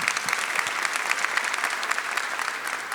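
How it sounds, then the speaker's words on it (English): A crowd at a ceremony marking Kawasaki's 5000th railcar applauds steadily, a dense, even wash of clapping held at a moderate level throughout, with no voice over it. "You can clap for that"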